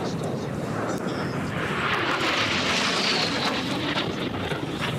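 Racing jet aircraft roar past at the Reno Air Races, a loud, broad jet rush that swells and fades over a few seconds, with commentators talking over it.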